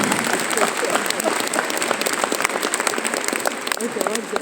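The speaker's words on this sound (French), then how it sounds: "Allez, on les applaudit." An audience applauds at the start of the intermission of a Messmer hypnosis show at the Zénith de Rouen, sustained loud clapping with talk from the crowd mixed throughout.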